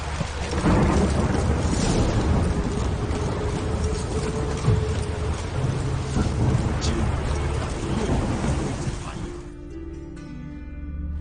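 Heavy rain pours steadily in The Witcher 3, with rolling thunder rumbling loudly through most of the scene before the storm noise drops away near the end, leaving quieter ambience.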